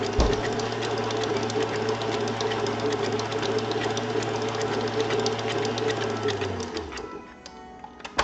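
Stand mixer fitted with a whisk attachment running steadily while beating airy frosting, a continuous close mechanical whir with rapid rhythmic ticking that winds down and stops near the end.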